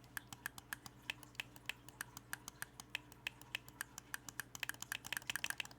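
Xbox Series X controller bumpers clicking crisply like mouse buttons, a quick uneven series of sharp close clicks that speeds into dense bursts near the end, over a low steady hum.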